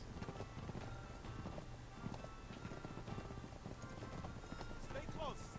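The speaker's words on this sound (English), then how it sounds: "Now we're still on a horse." Steady clip-clop of horse hooves at a quick pace in the video game Uncharted 3: Drake's Deception, with game voices and background sounds mixed in throughout.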